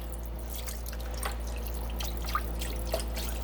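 Organic low-sodium vegetable broth, about a cup, poured for an oil-free pesto pasta sauce, giving a soft steady trickle with a few faint drips over a low background hum, no voices.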